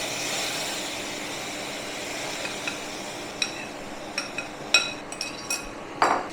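Dry vermicelli sewai being stirred in a pan with melted sugar and cardamom: a steady soft scraping and rustle with scattered light clinks of the spoon against the pan, growing more frequent toward the end.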